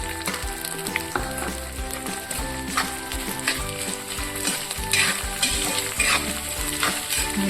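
Asafoetida sizzles in hot oil in a tempering for a Kathiyawadi green chili pickle, with a dense, steady frying hiss and crackle close up, under repeated stirring clinks and scrapes and a faint background hum.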